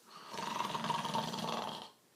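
A person deliberately makes loud, snore-like breathing as a demonstration: one long, rasping, throaty breath that swells and fades over about a second and a half, heard close up and alone.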